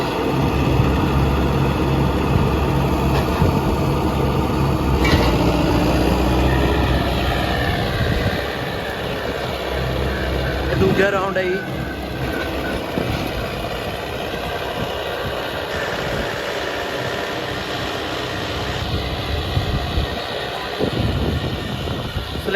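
A tractor engine runs steadily through a tractor pulling contest in a farm field, a loud continuous low drone with shifting tone and some background noise, with no talk over it.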